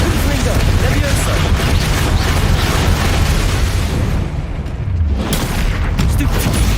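Confringo fire spell blasts in the Hogwarts Legacy video game: loud, dense, continuous booming explosions and crackling bursts with a brief dip before the roar resumes.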